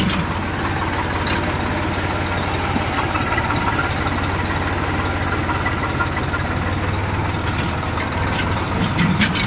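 A Swaraj tractor's diesel engine drones steadily and loudly at close range as it drives through a muddy rural road, a continuous low rumble with faint rattling and no speech.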